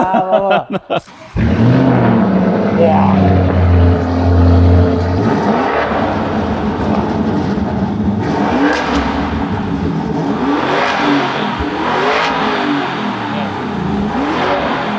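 A sports car with an aftermarket exhaust fires up and revs loudly several times, the exhaust rising and falling in throaty bursts before settling into a rumbling idle, close by.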